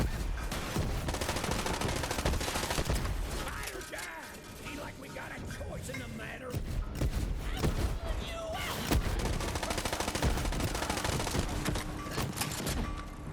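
The Solvent gun fires in dense, rapid bursts during a Borderlands 3 firefight, loud and close, mixed with explosions and impacts as voices shout underneath.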